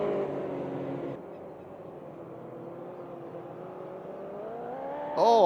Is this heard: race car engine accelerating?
yes